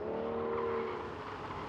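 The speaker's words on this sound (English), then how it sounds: "Now we begin the figure 8 test of the Aston Martin Vanquish." A 2014 Aston Martin Vanquish works through a figure-8 handling course, its engine note rising with steady harmonic tones and a faint hint of tire noise, heard continuously at moderate level with no talking.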